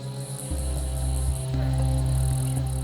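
An Australian forest katydid mimics a male cicada's mating call, answering with a steady buzzing trill that holds for a few seconds, close and fairly loud against a constant insect chorus.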